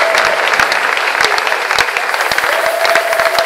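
A church congregation at a year-end marathon service applauding for Jesus, dense loud continuous clapping from a large crowd with scattered cheers, close and sustained throughout.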